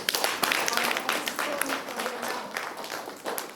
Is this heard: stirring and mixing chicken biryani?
no